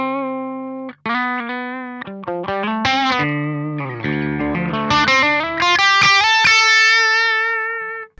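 Electric guitar played through a Fishman Fluence Classic Humbucker pickup on its Obsidian voice, volume rolled back to about half, gain near 3.5. Close, sustained notes and chords ring out with a mild overdriven edge and a short break near the start.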